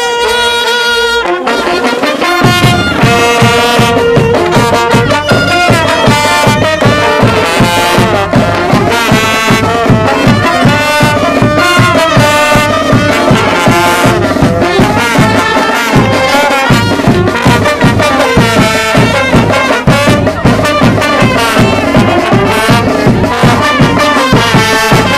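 A brass band plays a lively diana at the Jujuy carnival's Desentierro, loud and close, with a steady driving pulse of drums and horns that continues throughout.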